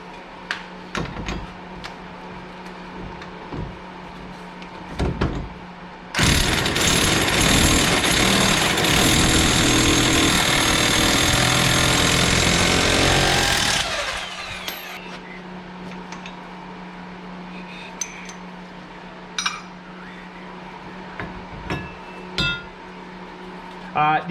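Impact wrench loosening an axle nut on an Arctic Cat Wildcat 1000 HO during a rear wheel bearing job, a loud sustained hammering burst of about eight seconds in a workshop, with quieter clinks and handling noises around it.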